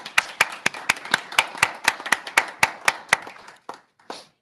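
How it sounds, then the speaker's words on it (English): Sparse clapping from a small group at a workshop: separate, sharp hand claps in a steady run that thins out toward the end, close and fairly quiet, with no voices. "I'd like to applaud all of the participants who have gone through this"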